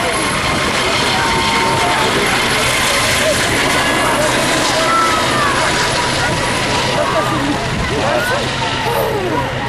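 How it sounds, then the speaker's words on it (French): Sud Aviation / Aérospatiale helicopter flying at an air show, its rotor and engine a continuous dense roar throughout, steady in loudness, with faint voices mixed underneath. "Cet hélicoptère était destiné à assurer la succession de l'Alouette 3."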